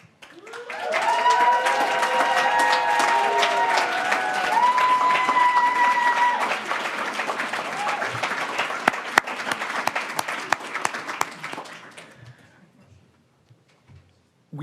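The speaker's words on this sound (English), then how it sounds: "can I ask you guys to stand up for a brief second and get your applause?" A university speaker-series audience rising to applaud, a sustained wash of clapping and some cheering for about twelve seconds before fading out, with a few voices calling out over it.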